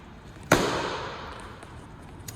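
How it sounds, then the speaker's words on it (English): A single sharp hand clap rings out close by, followed by a fading echo over a windy, rumbling background. "Let's do a clap sound."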